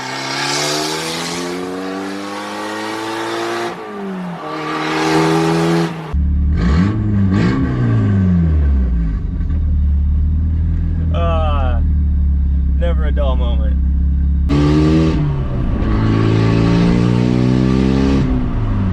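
A Mitsubishi Eclipse GSX engine with an aftermarket Megan Racing downpipe revs hard and rumbles deeply, with repeated throttle blips and a throaty, raspy exhaust note; a person speaks briefly over it.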